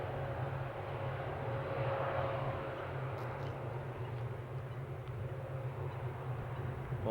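A Boeing 787 Dreamliner on its takeoff roll at Amsterdam Schiphol gives a steady, loud broadband jet roar with a deep low rumble that holds and swells slightly throughout, with no voices.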